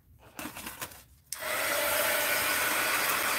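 A hair dryer switched on to dry a painted art journal page, starting abruptly after a few quiet handling sounds and then blowing with a steady, loud, close whine.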